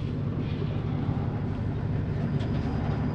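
Steady low rumble of a train idling or rolling slowly at a Thai railway station, a continuous mechanical drone with faint higher clatter, no voices.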